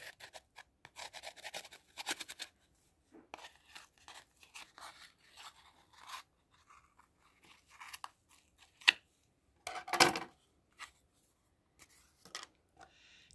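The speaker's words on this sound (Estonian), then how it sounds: "Nüüd võtad käärid" Scissors snipping through craft yarn or string while making a troll doll, a series of short crisp cuts with scraping and rustling, including one louder snip near the end, all close and without talk.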